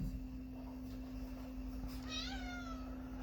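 A pet cat gives a drawn-out meow near the end, rising and falling, over a steady electrical hum in a craft room where mica tumbler work is underway.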